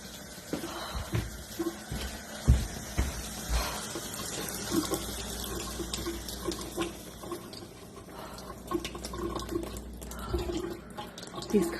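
Water running from a kitchen tap at night, a soft, steady hiss with scattered clanks and knocks nearby, quiet overall.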